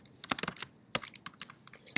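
Rapid typing on a computer keyboard while writing code, close and fairly quiet, with irregular bursts of clicky keystrokes and a short pause partway through; no talking.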